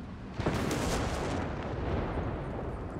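A direct-fire artillery barrage in Company of Heroes 3 pounds a Panzer IV tank. A loud booming impact lands early and rolls into a sustained rumble of blasts and debris, with no voices.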